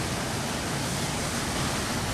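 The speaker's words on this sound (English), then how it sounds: "you have the fountain going" An outdoor water fountain at the University of Memphis runs steadily, giving a close, continuous rushing and splashing wash with no breaks.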